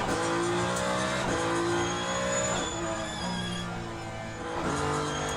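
A Ferrari race car engine roars at Monza in the sim racing game Le Mans Ultimate, climbing through the revs in repeated upshifts, each gear change leaving a brief dip before the pitch rises again; loud and continuous with no talk.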